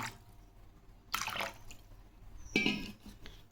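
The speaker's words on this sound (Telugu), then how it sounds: "మళ్ళీ కాస్త వాటర్ పోసుకున్నాం" Water poured into a homemade natural room-freshener remedy, heard as two short splashing bursts close by with quiet pauses between them.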